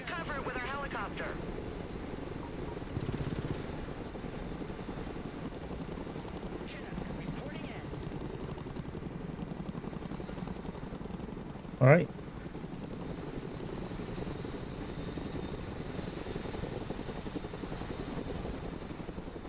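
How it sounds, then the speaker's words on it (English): A cargo transport helicopter in the real-time strategy game Broken Arrow drones steadily throughout, a low continuous rotor and engine hum under a man's speech, with a sharp click-like burst near the middle. "Let's go and recover it with our helicopter."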